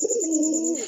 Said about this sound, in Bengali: এই যে এটা নর কবুতর